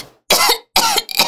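A man coughs twice in quick succession, loud and close, each a harsh burst followed by a shorter rough tail, with silence between.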